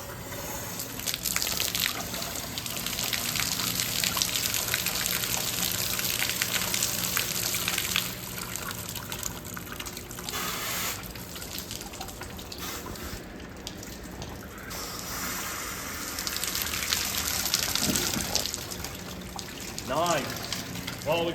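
Water gushes through the cooling system of a 2010 Ford Focus during a coolant flush, a loud, continuous rushing and splashing that swells and dips over about twenty seconds.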